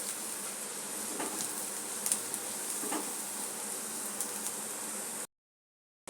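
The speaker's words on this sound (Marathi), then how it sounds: "कांदा परतून झाल्यावरती आपल्याला हे जाडसर वाटलेलं वाटण देखील याच्यामध्ये परतून घ्यायचं आहे" Coarsely ground spice paste sautéing in oil with onion for a Maharashtrian brinjal and potato curry, giving a steady soft sizzle with faint stirring scrapes throughout, then cutting to silence near the end.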